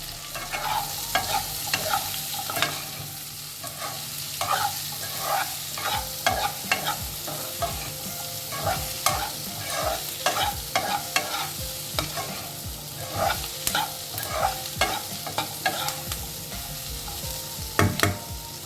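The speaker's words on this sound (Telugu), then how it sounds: "ఆలుగడ్డ కొంచెం వేగిన తర్వాత దీంట్లోకి మనం ఆనియన్ వేసేస్తాం. ఒక 2 నిమిషాలు వేయిద్దాం." Potatoes and onion fry in a pan with a continuous close sizzle, punctuated by frequent scraping and clinking stirs of a spatula against the pan, with no talking.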